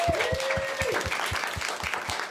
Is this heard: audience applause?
yes